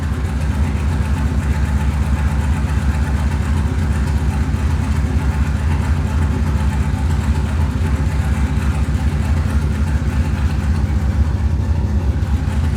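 A Chevrolet Corvette engine runs steadily and loudly at close range with a continuous, even drone. The car is only partly running, with no boost and a non-working air-fuel gauge.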